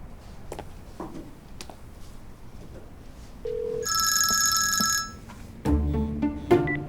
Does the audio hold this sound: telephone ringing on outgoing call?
yes